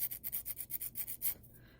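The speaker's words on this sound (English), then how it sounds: "Just use your sanding stick" A sanding stick files the sharp edge of a glass ring in about ten quick, even back-and-forth strokes, faint and close, with no voices.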